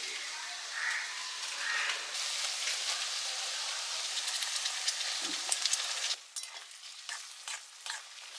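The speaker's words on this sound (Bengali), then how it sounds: "পেঁয়াজটা ভাজতেই অনেকটা সময় চলে যাবে, তো সেটাই এখন ভাজা চলছে।" Chopped onions sizzle steadily in a hot pan with occasional stirring scrapes, a loud dense hiss that eases in the final seconds.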